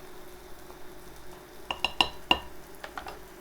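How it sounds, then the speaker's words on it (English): Salt stirred into liquids in a bowl for bread batter, a cluster of quick spoon-on-bowl clinks and scrapes, close and fairly faint against a quiet room. "Half a teaspoon of salt. We'll stir that in."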